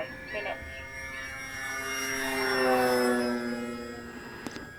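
An RC Tecnam 2010 model float plane flies over calm conditions, its electric motor whining steadily as it swells nearer, peaks, then fades away again.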